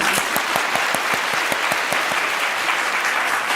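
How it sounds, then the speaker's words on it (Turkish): Studio audience on a Turkish TV word game show applauds steadily, dense and close clapping with sharp individual hand claps standing out, continuous for the whole few seconds without speech. "alkışlarla"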